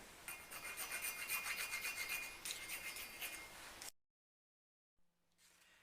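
Stone being filed by hand, a quiet rhythmic rasping of steady back-and-forth strokes that stops abruptly partway through, followed by near silence and a faint return of sound.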